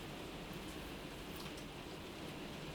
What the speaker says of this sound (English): Yeah, it's definitely raining.